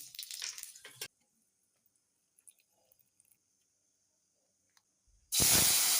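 Dry red chilli and five-spice seeds hit hot oil for a Bengali potato dish, giving a brief crackling burst at the start, then near silence, and finally a loud, steady spraying sizzle close by.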